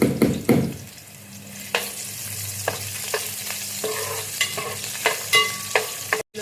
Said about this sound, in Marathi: लसूण परतून घेऊया चांगला जरा.